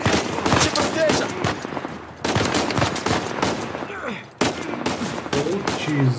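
Rapid automatic gunfire in Uncharted 4, dense loud bursts of shots in quick succession with brief gaps, mixed with shouting voices over the firefight.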